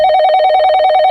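A telephone rings with a steady electronic trill, loud and continuous, with rapid pulsing beeps and no voices.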